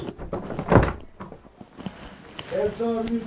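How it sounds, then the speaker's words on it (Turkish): A door in a village house swings shut with a sharp thump near the start, followed by other faint household sounds and a brief tonal creak or hum toward the end. "kapıyı kapatalım."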